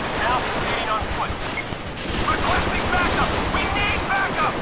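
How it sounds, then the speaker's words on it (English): Gunfire in GTA 5 during a highway patrol police mod shootout: a continuous rattle of rapid shots and bursts blending into a dense roar, with voices talking over it. "Oh, they shooting."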